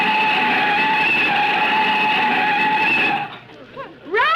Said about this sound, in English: Mr. Benny stepped on the brakes.